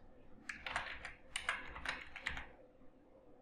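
Fingers type on a computer keyboard while entering a field code in Microsoft Word, producing several short, close bursts of quiet key clicks with small pauses between them.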